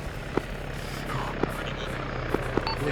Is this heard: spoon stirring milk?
no